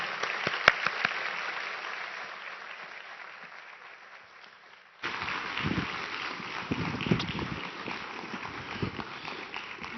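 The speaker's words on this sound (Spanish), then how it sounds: "Recibamos con un muy fuerte aplauso a este gran periodista, León Krause." Audience applause in Tijuana greeting a journalist as he takes the stage, a dense steady clapping that fades somewhat and then swells again louder midway, with a few sharp claps standing out.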